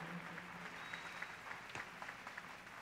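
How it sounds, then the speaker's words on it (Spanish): Soft scattered clapping from a crowd at a church crusade in Argentina, faint and continuous, heard at a distance. "fuerte el aplauso"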